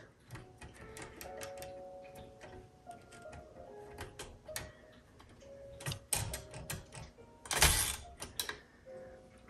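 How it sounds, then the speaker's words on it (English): Typing on a 1941 Royal Companion manual typewriter: irregular mechanical key strikes and clacks at a moderate pace, small bell-like tones, then a loud ratcheting carriage return, close and quiet with no talk. "And then I can keep typing."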